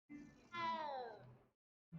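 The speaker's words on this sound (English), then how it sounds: "But that was a weird meow." A single drawn-out cat meow in the video game Hogwarts Legacy, clear and close, with a rising then falling pitch, after a brief softer lead-in.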